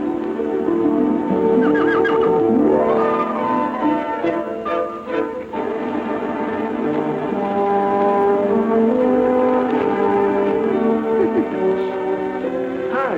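A Palomino horse whinnies loudly and close up, its neigh rising and wavering over a steady sustained backing, with possible hoof clip-clop underneath.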